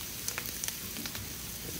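Onions fry in butter on a Blackstone griddle over medium heat, a steady close sizzle with faint crackling pops scattered through it.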